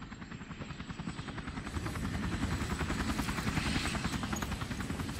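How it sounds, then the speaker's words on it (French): A helicopter in the Resident Evil 4 Remake video game, its rotor thudding in a fast steady pulse that swells louder and closer after the first couple of seconds, heard alone without speech. "L'hélico est là."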